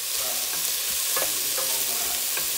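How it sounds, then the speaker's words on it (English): Onions and garlic sweat in a pot on the stove for a zucchini and sweet potato soup, with a steady soft sizzle under a few light scrapes of a spoon stirring through them. "Now you're just going to stir this up, and you just want the onions and garlic to just sweat down."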